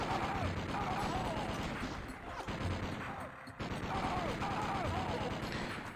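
Sniper rifle fire in the Doom mod Abyssm 2, a dense, continuous barrage of game gunfire with repeated sharp reports over loud, busy combat noise, briefly dipping before resuming at full intensity.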